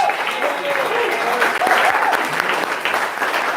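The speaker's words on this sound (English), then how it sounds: "And a round of applause for our president." A distillery tasting crowd applauds the president with steady, close, loud clapping throughout, while voices call out and chatter over it.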